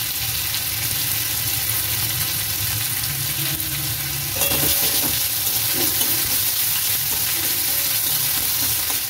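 Garlic and ginger paste frying in hot oil in a pan for chilli garlic cauliflower, a steady loud sizzle throughout that swells and brightens midway as more paste hits the oil, with no talking.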